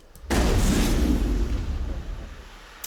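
A single heavy shotgun blast from the video game Mass Effect, loud and close, booming out and then rolling away in a long fading tail, followed by a faint click.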